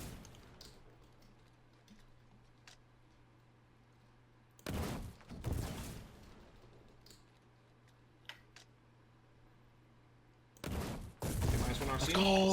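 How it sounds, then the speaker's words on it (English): Heavy gunfire in a tank video game, with a World of Tanks WC113 named: two loud clusters of rapid shots, the first around the middle and the second near the end, separated by quieter in-game ambience and small clicks. "they just keep firing continuously"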